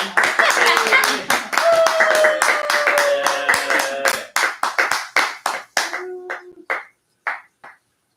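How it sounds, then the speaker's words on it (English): An audience at a senior recital claps loudly at first while voices talk over it, then the applause thins out into a few scattered, isolated claps before stopping. "You can clap now."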